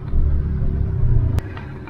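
Road traffic in a small town in Meghalaya, India: a steady low rumble of passing cars and engines, with a sharp brief knock near the end.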